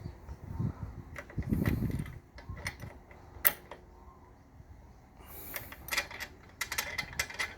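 A socket and spanner twist to set a nutsert, making close metallic ratcheting clicks and scrapes in irregular bursts, with quiet pauses and some handling knocks between turns.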